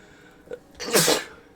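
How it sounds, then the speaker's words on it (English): A single loud sneeze bursts out after a short inhaled breath, sharp and close, then fades quickly. "I gotta sneeze"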